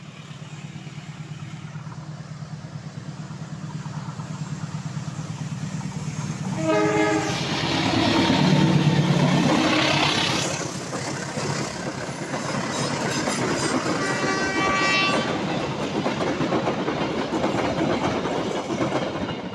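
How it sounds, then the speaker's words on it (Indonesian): A train rumbles past loudly through the Karangkates 2 tunnel with clattering wheels, its horn sounding twice, the noise echoing and swelling as it passes through the enclosed space. "ada kereta api parsel tengah yang jadwalnya normal ya melewati torongan Karangates"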